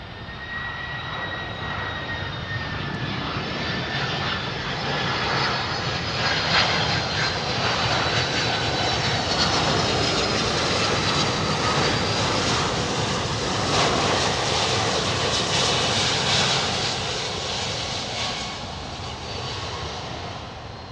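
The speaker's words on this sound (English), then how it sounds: "767 landing, 767 taxiing." A Boeing 767 airliner lands and taxis, its jet engines giving a steady, loud roar with a whining tone that swells in the middle and eases slightly toward the end, with no voices over it.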